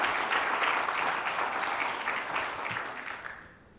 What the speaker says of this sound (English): a little bit of a clap for Jimmy